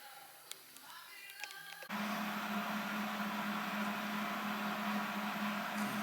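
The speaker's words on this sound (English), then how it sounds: "I'm gonna bust out the old Hobart there, and we're gonna do a little welding." Steady, loud buzzing hiss of a Hobart welder laying a bead, kicking in abruptly after a couple of seconds of quieter shop sounds and running unbroken to the end.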